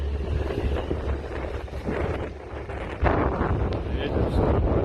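Strong wind buffets the microphone at sea in Novorossiysk while a sunken yacht is salvaged by crane, a continuous low roar with gusts swelling louder midway, and voices are faintly heard.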